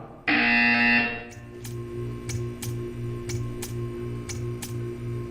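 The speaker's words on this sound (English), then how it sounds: "You will hear a buzzer." A loud, harsh buzzer blares for about a second in the game Portal 2, then a quieter electronic pulsing with regular clicks repeats steadily in the background.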